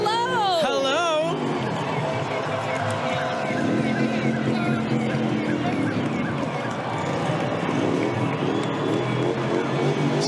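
Loud vehicle engines and rumbling mufflers at the Toronto Pride parade in 2019 drone steadily throughout, layered with crowd noise and some higher whistling tones.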